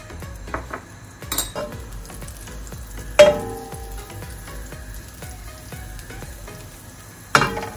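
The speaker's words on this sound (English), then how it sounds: "in our frying pan, we're going to turn on the heat to about medium heat is good, and add in our butter." Butter melting in a frying pan over medium heat gives off a gentle, crackling sizzle, with sharp metallic clinks of a utensil against the pan at intervals and no one talking.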